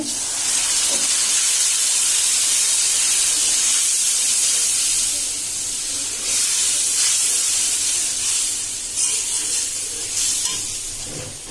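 Loud, steady hiss and steam rush from a hot biryani pot as water goes in, continuing with slight surges throughout.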